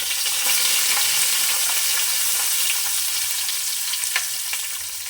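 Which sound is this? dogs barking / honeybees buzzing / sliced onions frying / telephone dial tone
sliced onions frying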